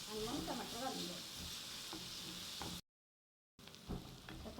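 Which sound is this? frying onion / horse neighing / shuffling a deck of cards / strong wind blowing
frying onion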